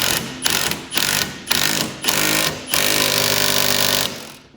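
An impact wrench tightens a front strut bolt on a Mercedes C300. Five short, loud rattling bursts come close together, then one longer final hammering run.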